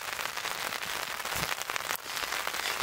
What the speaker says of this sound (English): I'm very hot, but it's pouring rain now.